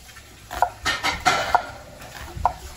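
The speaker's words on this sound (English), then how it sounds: "I'm gonna chop the onions up." A knife chops onions in a home kitchen while beans cook, giving a handful of sharp, irregular taps against a board with quiet gaps in between.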